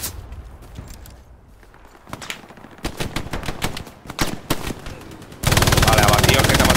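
Gunfire in the World War II shooter Hell Let Loose: scattered sharp shots and machine-gun bursts of varying distance, building into heavier fire before ending in a loud, dense roar.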